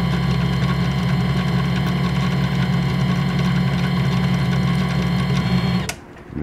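A machine in low gear drives a tap into a hole while machining a thread protector, giving a loud, steady mechanical whir with a low hum that runs continuously and then cuts off abruptly near the end.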